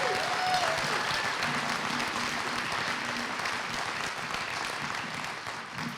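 Sustained applause from a large union convention audience, a broad, even roar of clapping heard from a distance that stays steady and then eases slightly toward the end.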